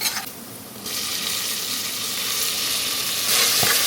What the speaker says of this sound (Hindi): हरी मिर्ची इज गेटिंग कुक्ड